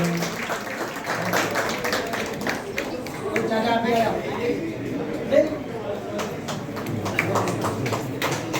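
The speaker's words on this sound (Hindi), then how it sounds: "जोरदार तालियां स्वागत अभिनंदन।" Steady clapping from a gathered crowd welcomes a retiree at a Northern Railway headquarters farewell in New Delhi, running several seconds under a voice calling out over it.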